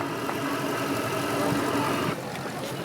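A vintage tractor engine runs steadily during a show parade, a continuous loud mid-pitched rumble with a knocking texture and no talk over it.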